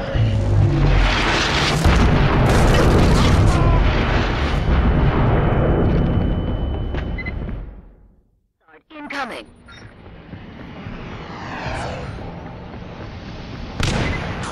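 An airstrike explodes in a multiplayer match of the PS Vita game Killzone Mercenary on the Tharsis Depot map. Loud, rumbling blasts and booms pile up, cut out to near silence for a moment, then a second wave of crackling detonations follows.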